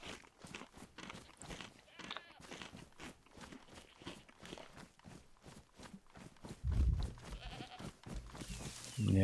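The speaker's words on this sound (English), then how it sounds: "The sheep you can hear get to live another day." Sheep and goats bleat intermittently in the survival game DayZ, faint and mixed with footsteps and game ambience, with a louder burst near the end.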